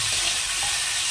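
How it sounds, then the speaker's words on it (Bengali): Cauliflower sizzles in a hot pan as it is fried and stirred, a dense continuous crackle with no voices over it. "এটা ভাজা ভাজা হয়ে গেছে,"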